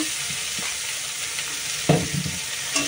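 Vegetables fry in hot oil tempered with nigella seeds, giving a steady close sizzle with a few sharp stirring scrapes.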